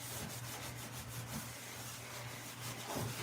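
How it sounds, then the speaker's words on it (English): Steady rhythmic scrubbing on a bathtub surface during a bathroom cleaning, a faint, continuous rubbing texture with a low hum beneath it. "I'm scrubbing, guys. Scrubbing the bathtub."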